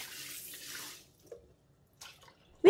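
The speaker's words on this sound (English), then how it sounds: "First, rinse the wok with water" Tap water runs and splashes into a lightweight 36 cm cast iron wok for about a second, then stops, leaving a few faint knocks and a brief later burst before a sharp clunk at the end.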